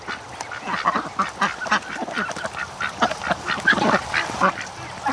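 A group of ducks and ducklings quack and chatter in a pen, with many overlapping calls in a steady, busy stream at moderate distance.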